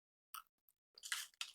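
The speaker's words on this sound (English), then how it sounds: "I'm talking about the Halloween candy that I'm currently munching on." Smarties Halloween candy being munched close up, a few crisp crunchy chewing bursts separated by short silences, with no talking.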